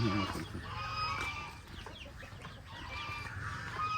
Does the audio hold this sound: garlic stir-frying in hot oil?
no